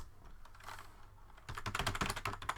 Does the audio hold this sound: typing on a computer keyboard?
yes